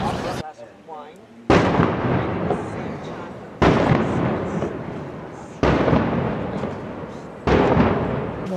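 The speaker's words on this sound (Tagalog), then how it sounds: "May fireworks." Fireworks set off at a festival opening in Austria: four loud, evenly spaced booms, each a sudden blast with a long rolling decay, echoing through an outdoor space.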